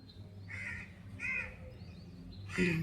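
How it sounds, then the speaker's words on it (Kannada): Crows caw in three harsh bursts spaced about a second apart, the last one loudest and nearest, over a low steady background hum. "ಕಾಗಿಗಳೆಲ್ಲ ಹೆಂಗೆ ಕೂಗ್ತಾ ಇದ್ದಾವೆ, ಎಷ್ಟು ಆವಾಜ್ ಮಾಡ್ತಾ ಇದ್ದಾವೆ"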